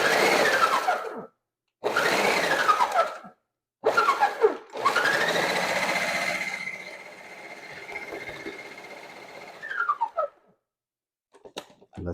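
A food processor with its regular blade chops pecans for a pecan pie in loud, whirring bursts: several short pulses, then one longer steady run that winds down, ending in a few faint clatters.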